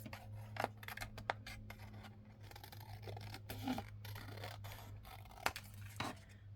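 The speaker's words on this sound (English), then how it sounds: "if we trim this down ever so slightly around the edges" Scissors snip around the edges of a paper piece, a few sharp close cuts over a low steady hum, faint and with no talk.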